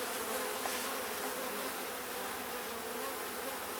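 A thick, constant hum of many honey bees crawling on a hive frame, close and even throughout, with no voices.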